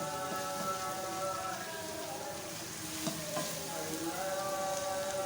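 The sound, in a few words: potatoes with fenugreek and spinach roasting in a pan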